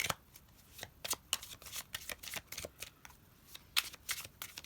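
Rapid, rhythmic riffling and slapping of tarot cards being shuffled close up, a continuous series of crisp papery bursts with no speech.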